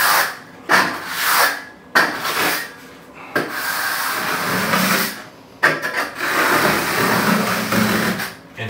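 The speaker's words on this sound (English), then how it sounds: "Take my steel trowel." A steel trowel scrapes and presses coarse sand down onto a Laticrete Hydroban membrane in long gritty rubbing strokes, close and fairly loud, with short pauses between passes.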